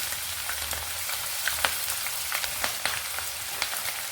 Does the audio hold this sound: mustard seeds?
yes